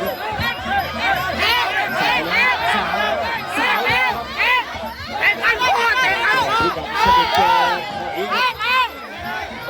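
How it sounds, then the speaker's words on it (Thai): A dense, loud crowd of many voices shouting and cheering without pause at a women's Muay Thai bout at an Isan boxing event in Sisaket, Thailand, with excited yells rising and falling throughout. "กองเชียร์ก็ให้กำลังใจนะ"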